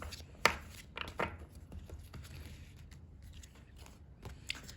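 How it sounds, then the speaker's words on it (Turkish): A deck of tarot cards shuffled by hand, heard as soft, close, irregular riffles and slaps with brief louder snaps, quiet overall with no talk. "Biraz daha karıştırayım."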